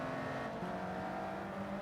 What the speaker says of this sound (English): Sorry, it's a bit loud, the engine sound.